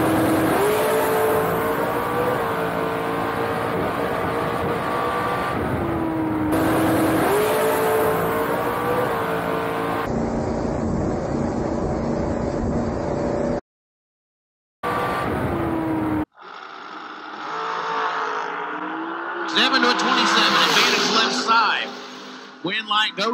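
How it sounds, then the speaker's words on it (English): Heads-up drag race at a drag strip, with race cars roaring and revving loudly at close range and engine notes rising and shifting, broken by abrupt cuts and a silent gap, then a distant crowd-like din with talk. "Thomas Wilson, 451, heads up race with Rocky McLean."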